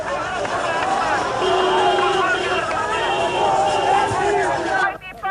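Dense crowd hubbub surrounding Benazir Bhutto's convoy in Pakistan, a steady roar of many voices with overlapping shouts held at a constant level, dropping briefly near the end.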